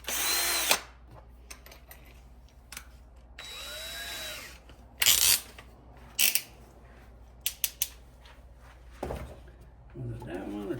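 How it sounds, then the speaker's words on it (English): A handheld power drill whirs in several short bursts of varying length, close by, with quiet pauses and faint handling noises between them, while working on parts for a Kawasaki KFX 400 ATV. "Get your drill."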